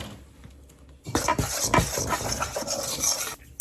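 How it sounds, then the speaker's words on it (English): A whisk stirring dry baking ingredients, flour and baking soda, in a bowl for muffins, a close scraping, rasping swish lasting a couple of seconds after a quiet start. "So let's whisk all this so we can then add"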